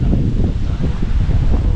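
Heavy wind buffeting the microphone in a continuous low, rumbling roar with gusty pulses, no voices.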